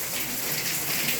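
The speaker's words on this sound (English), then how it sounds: "So the rain has been falling for, I know it's over 12 hours now." Heavy rain during the rainy season in Ghana pours in a dense, continuous hiss of drops on surfaces, loud and steady with no voices.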